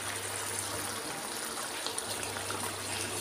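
Warm water pouring into a pot of jackfruit curry, a faint continuous trickle and splash with a low steady hum underneath.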